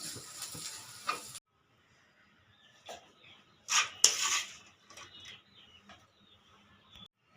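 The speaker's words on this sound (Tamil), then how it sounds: "நல்லா வதக்கி விட்டுக்கலாம். இப்போ வெங்காயம் நல்லா வதங்கிடுச்சு." Onions for an egg gravy being sautéed in a pan, heard as a short sizzle followed by intermittent bursts of stirring and scraping against quieter stretches.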